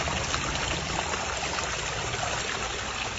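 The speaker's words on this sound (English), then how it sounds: "that sound, the little waterfall drops" A small waterfall in a stone aquascape pond water feature splashes and trickles steadily, close and fairly loud, with a continuous rushing wash and no voices.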